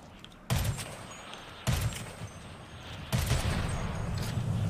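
Three abrupt bursts of rapid rifle gunfire in GTA, each starting sharply and trailing into a sustained rattle, loud and close with no talking.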